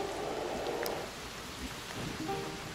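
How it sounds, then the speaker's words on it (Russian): Rain falling in the video game Wartales, a steady wash of drizzle with faint patters and a low rumble underneath, continuous and moderately quiet. "Что-то какая-то погода, дождь."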